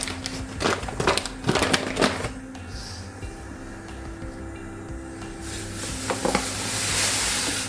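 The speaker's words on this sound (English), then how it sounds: "And stir it until it dissolves." A spoon stirs sugar through grapefruit marmalade in a pot with scraping, swishing strokes in the first seconds, followed by a quieter stretch and a soft rising hiss near the end.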